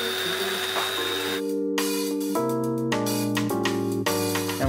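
An electric grinder whirs loudly in a home kitchen, grinding dried anchovies for a sauce in short, choppy bursts with brief stops and restarts.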